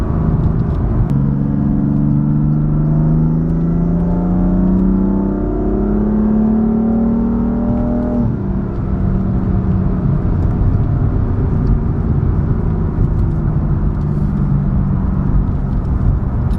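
A BMW M4 with a CTS turbo and BM3 stage 2 tune accelerates hard on an open road: a loud, continuous engine drone climbs steadily in pitch, with a gear change at about eight seconds followed by another rising pull.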